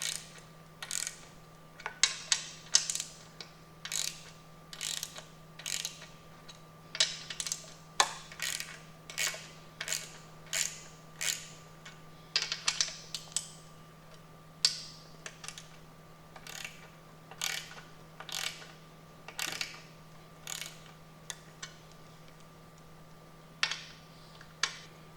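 A ratchet working 10mm bolts on the bottom plate of a Mercury 60 HP Big Foot outboard, a close, quiet series of quick clicking bursts repeated in irregular runs over a faint steady hum.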